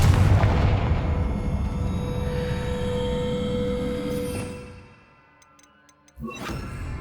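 In the Hogwarts Legacy game, a spell is cast and sets off an explosion: a loud rumbling blast that fades to near silence, followed by a sharp new burst with a bright magical shimmer.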